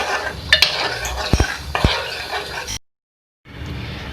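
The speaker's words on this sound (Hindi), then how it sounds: "खोए के साथ इसको हम कुक कर लेंगे कि ये मेल्ट हो जाए इसमें।" Khoya being stirred in a metal pan while cooking, with several sharp clinks of a spoon against the pan among soft scraping and stirring, close up, followed by a short silence and then quieter kitchen handling.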